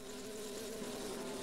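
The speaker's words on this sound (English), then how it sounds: "There are bees in here." Bees buzzing in the video game Majora's Mask, a continuous droning hum that holds steady and moderately loud throughout with no talk.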